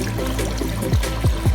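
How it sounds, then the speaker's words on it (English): Water, one liter, is poured into a pot of curry chicken at a Malaysian street food stall, a steady splashing pour with a few gurgling surges near the end, close and moderately loud. "I will put water of 1 liter water."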